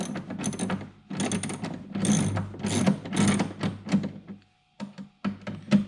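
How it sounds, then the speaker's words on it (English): A hand ratchet tightens the mounts of a Black Boar ATV lounger and storage rack, giving repeated bursts of rapid clicking separated by short pauses, close and clear. "You have a hard time with this ratcheting until it gets tight."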